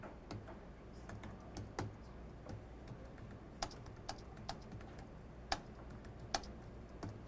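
Quiet, irregular keystrokes on a computer keyboard while HTML markup is coded, with scattered soft clicks and a few sharper, louder taps standing out over low room hiss.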